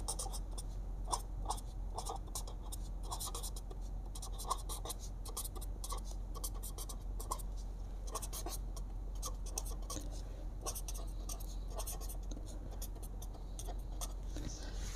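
Pen scratching on paper while a Class 7 maths equation about football and basketball prices is written out, a steady run of soft, close strokes and ticks with no talk.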